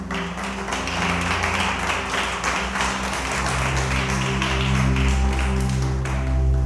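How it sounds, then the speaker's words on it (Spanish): A church congregation claps steadily during a Spanish-language service. The applause is dense and continuous over sustained musical tones underneath. "Vamos a darle un aplauso al Rey."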